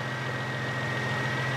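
A BMW 335i engine idles steadily with a low, even hum and faint vibration, sounding close and constant throughout with no voices over it.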